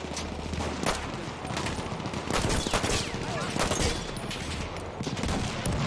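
Rapid pistol fire in Battlefield 1, a steady run of sharp shots over dense battlefield noise, with other gunfire and a voice mixed in.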